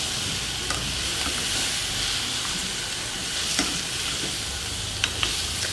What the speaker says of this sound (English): go ahead and put your black beans in there and saute